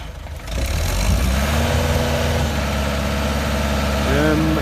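A Kubota M8200 utility tractor engine idles with a steady, close, low rumble and a faint mechanical rattle, holding an even pitch throughout.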